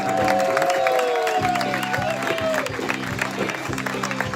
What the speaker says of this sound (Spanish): Un fuerte aplaudiment.